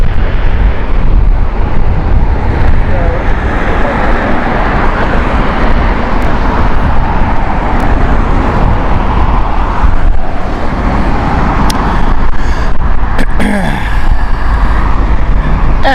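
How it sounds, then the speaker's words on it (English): Boeing 787 jet airliner at Heathrow, a loud broadband jet roar that fills the whole stretch with steady rumble and a few sharp clicks near the end, a voice speaking briefly over it. "Beautiful 787."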